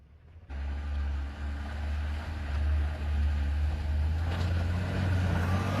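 A car stuck in snow revs its engine hard after a short quiet start, a loud low steady drone that swells and holds, with a brief rise in strain near the end, heard close up.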